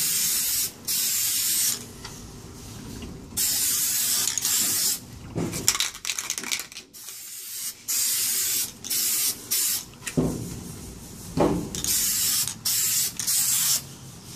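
Repeated hissing bursts of a paint sprayer coating edges, on and off in short pulses of a second or two, close by with a few clattering handling noises between.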